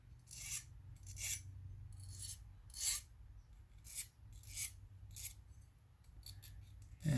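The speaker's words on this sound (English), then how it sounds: "Don't want to actually file a bevel on it, but just want to get rid of the burr" Hand file rasping across metal to knock a burr off an engine part, in a run of short strokes spaced about a second apart, each a bright scraping pass, fairly close with a low hum beneath.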